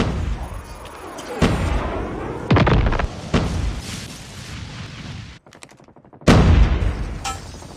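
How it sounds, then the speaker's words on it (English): Napalm strike and gunfire in the Call of Duty Mobile Hardpoint multiplayer mode: loud sharp bursts of shots and booming impacts in irregular clusters, a brief near-silent gap, then another heavy blast. "Friendly napalm deployed."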